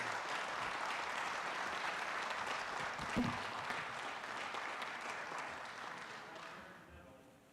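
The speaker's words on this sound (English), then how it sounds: "Let's give these young folks a big round of applause." An audience at a city council meeting applauds children being recognized, a sustained wash of clapping that carries on at even strength and softens toward the end, with a brief thump midway.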